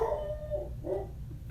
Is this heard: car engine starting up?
no